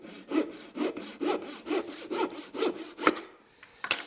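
A hand saw cuts a wood strip along a marked line during classical guitar making, with about eight even back-and-forth rasping strokes, close and clear, ending in a couple of sharp knocks.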